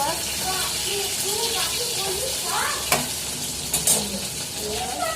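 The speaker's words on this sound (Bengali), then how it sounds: "আমি এখন মাছ ভাজছি" Fish frying in a pan in a home kitchen, a steady close sizzle running through the whole stretch with a few sharper spatters near the end; a voice talks lightly over it.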